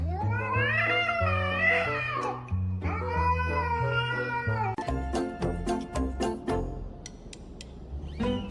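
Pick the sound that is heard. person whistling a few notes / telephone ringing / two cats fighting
two cats fighting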